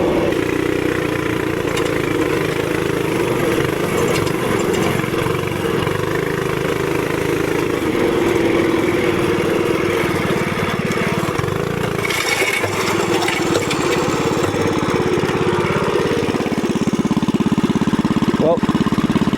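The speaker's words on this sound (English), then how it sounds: "The blue bike sounds so good." A TrailMaster MB200 mini bike engine drones steadily and loudly throughout, its mid-pitched running note holding with slight rises and dips, up close and continuous with no clear talk over it.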